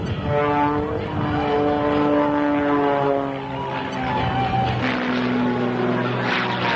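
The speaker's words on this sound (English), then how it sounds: "This airplane does not want to fly backwards, but he's holding it there until finally he relinquishes control and allows the airplane to swap ends." Propeller airplane performing a torque roll at a 1993 air show in South Weymouth, its engine droning loud and steady with pitch shifting as it hangs and swaps ends, under a commentator's voice.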